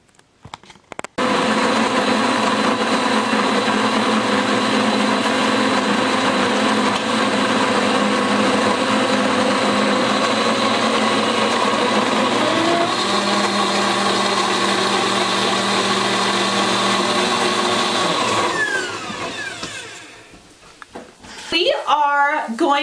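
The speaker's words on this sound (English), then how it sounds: "Now I already have the mix in the blender, and I'm going to use my blend tech because we have a lot more to blend at once." A Blendtec blender whirs loudly and continuously for nearly twenty seconds as it purees a squash and carrot baby food mix. The pitch shifts partway through, then the motor winds down to a stop, followed by a few clunks.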